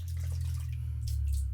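Razor rinsed under a steady stream of running tap water, a continuous close splashing wash with small drips and gurgles breaking through, no voices.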